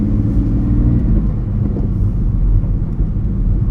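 A turbocharged BMW E46 with an external Turbosmart/HKS wastegate cruises along a country road, giving a steady, loud low engine rumble and drone with no break and no voices.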